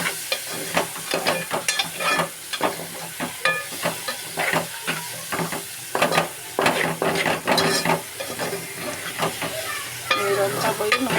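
Chopped onions fry and sizzle in hot oil, with a steady hiss broken by repeated scraping and stirring strokes of a utensil against the pan, close and fairly loud throughout.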